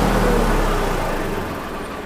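A 2016-model Swaraj 855 tractor engine runs loud and close, with a dense low rumble that holds steady and then eases slightly toward the end.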